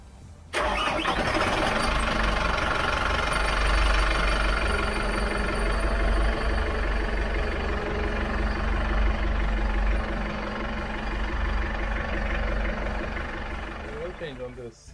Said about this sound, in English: So I'm gonna start the engine, let it run for about 5-10 minutes, let the temperature rise a little bit.